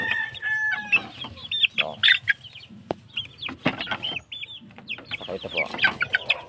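Backyard fighting-cock roosters, including Golden Boy Sweater stock, cluck and call in their breeding pens, loud and close, while someone talks over them throughout.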